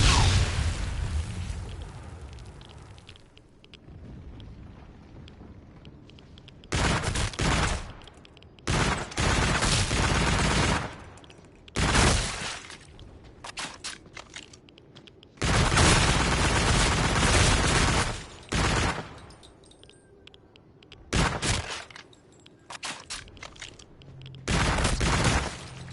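Gunfire in a PS4 video game, loud bursts of rapid shots and booms that start and stop repeatedly, with short quiet gaps between volleys.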